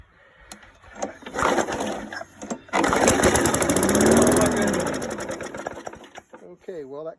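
A 35-year-old lawn mower engine sputters and tries to fire, with rattling cranking bursts building into a loud rough run for a few seconds before fading out, with people talking over it.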